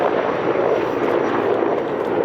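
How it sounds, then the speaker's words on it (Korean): Steady, loud rotor and engine roar of a very large firefighting helicopter arriving, continuous and close, with no voices. "이어서 초대형 헬기가 들어오겠습니다."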